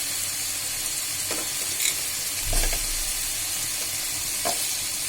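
Potatoes and teasel gourd frying in hot oil for a vegetable curry: a constant close sizzle broken by a few stirring scrapes and soft knocks, no voices.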